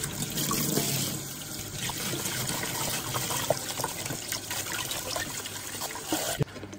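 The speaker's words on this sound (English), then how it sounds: "Just gonna try and wash off as much of this soil as possible." Tap water runs steadily over alocasia roots as soil is rinsed off, a continuous close splashing and trickling flow that stays fairly even, with a brief dip near the end.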